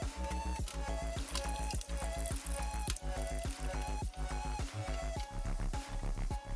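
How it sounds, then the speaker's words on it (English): Hot juice from roasted salsa vegetables drains off with wet drips and squishy splashes in a choppy, repeated rhythm close by, with no talk. "And then I'm going to drain this juice a little."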